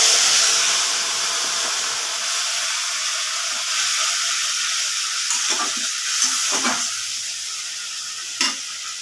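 Ginger and chili paste sizzles steadily in a hot pan for a Bengali khichuri, a continuous close frying hiss broken by a few sharp stirring scrapes near the end.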